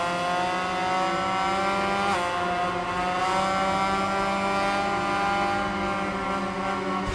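Motorcycle engine from the MotoGP 21 video game, a 500cc bike racing at Brno, roars steadily and loudly through a wheelie with a sustained high whine and a brief pitch dip partway through, with no talking.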